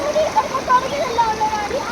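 Water splashes and rushes steadily at a waterfall near Munnar, a broad continuous wash of spray with faint whistling tones drifting over it.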